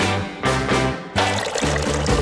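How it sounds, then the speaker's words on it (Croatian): Hot sauce and water are poured into a larger bottle in two close, splashing bursts of liquid streaming into the container, heard alone without talk. "Treba uzeti veću flašu, sipati sos unutra i razblažiti ga vodom."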